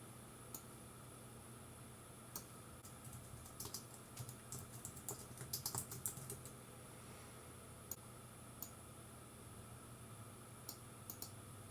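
Keys on a computer keyboard tap out text into a text box, a scattered handful of faint, close clicks with a short denser cluster in the middle over a quiet hiss, no speech.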